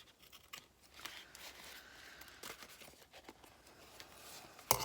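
Scissors trim craft material around a glued-on pocket. Quiet, close snipping and rustling sounds repeat unevenly, and a louder handling noise comes at the end.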